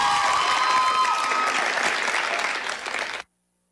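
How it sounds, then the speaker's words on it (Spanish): Studio audience on a Spanish-language morning TV show applauds in a dense, steady burst of many hands clapping, loud and continuous, thinning slightly before cutting off abruptly. "¡Aplausos!"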